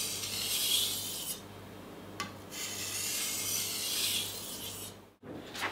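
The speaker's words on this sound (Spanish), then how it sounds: "Y de nuevo quitamos la rebaba." Kitchen knife being sharpened to remove the burr: steady rasping strokes of the blade on the sharpener, several long rubs separated by brief pauses, close and alone.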